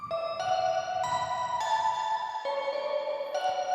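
Bright FM-style DX synth bell melody with stacked metallic harmonics, stepping through sustained notes in a steady, continuous line at moderate level, sitting back in a mix with no voices.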